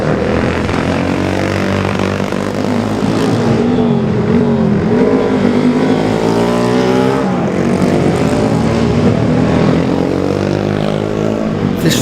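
Classic racing motorcycles, Hondas and a Velocette among them, rush past at speed during the Classic TT junior race. Loud, layered engine howls sweep by close, their pitches bending as the machines pass in quick succession.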